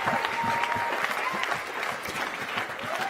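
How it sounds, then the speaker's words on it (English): An audience at an awards ceremony applauds steadily, a dense wash of many hands clapping at an even level throughout, with a few faint voices mixed in. "please give Coach Joins a round of applause for what he's done."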